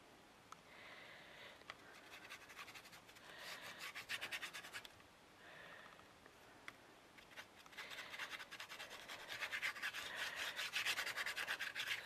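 Texture material is rubbed by hand over a miniature, producing a soft, continuous scratchy scrubbing that swells into denser, louder bursts before trailing off, close and alone with no talk.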